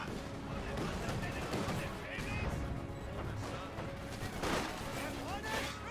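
Squad rifle and machine-gun fire in the Company of Heroes 2 video game, a steady cluttered battle din of shots and impacts at moderate distance, with a caster talking over it throughout.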